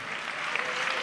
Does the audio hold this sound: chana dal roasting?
no